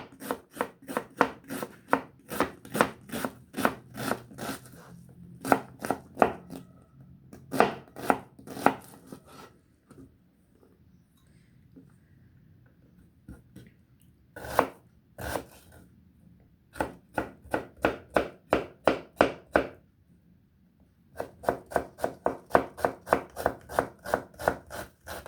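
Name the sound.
knife chopping onion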